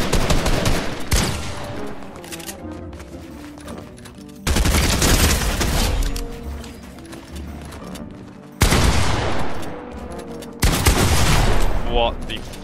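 Gunfire in the video game Fortnite comes as several loud, dense bursts of rapid shots with sharp onsets. They are separated by quieter stretches of mixed game noise.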